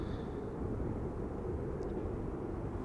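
An airliner departing Amsterdam Schiphol Airport, a steady, loud broadband jet-engine roar with deep low rumble, no voices.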